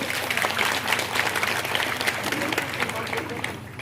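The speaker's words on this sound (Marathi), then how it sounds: "मला तर वाटतं त्यांच्या करता तुम्ही सगळ्यांनी जोरदार टाळ्या वाजवल्या पाहिजे" A crowd at a political rally for a local election meeting in Kopargaon applauds with sustained, dense clapping, loud and continuous across the whole stretch, with voices mixed in.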